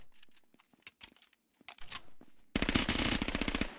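A Hellfire submachine gun with a 30-round magazine fired in the game H1Z1, a rapid loud burst of automatic fire at the end after scattered clicks and handling noises.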